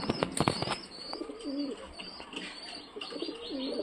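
Punjabi pigeons, a female among them, coo in repeated low rolling phrases while wings flap in quick bursts early on, close and moderately loud, with faint chirps behind.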